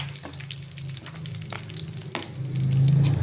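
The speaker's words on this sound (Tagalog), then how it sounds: "Pritong isda." Fish frying in a pan, a close, continuous sizzle and crackle with a few sharp pops and a louder surge of spitting oil near the end.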